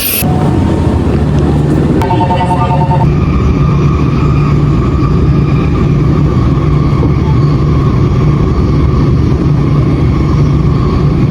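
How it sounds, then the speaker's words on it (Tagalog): Train pulling into a station in Japan, a loud steady rumble with a brief chime near the start, continuous and close throughout. "So andito na yung train"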